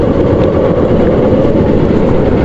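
A train at the old Ayodhya railway station at night, heard as a steady, loud, broadband rumble that fills the whole stretch without a break.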